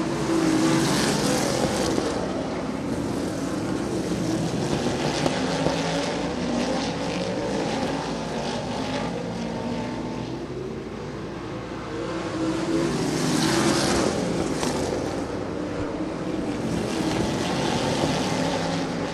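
Sprint cars race on a dirt oval, their engines roaring past in two loud waves with a droning lull between, heard from trackside with no talk.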